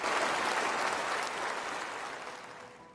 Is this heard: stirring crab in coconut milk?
no